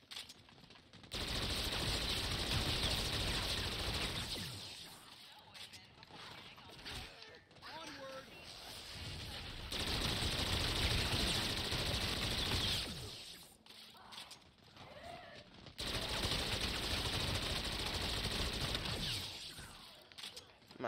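Long bursts of automatic gunfire from a wall weapon in Call of Duty zombies, Zombies in Spaceland, loud and rapid with short pauses between bursts, someone talking throughout.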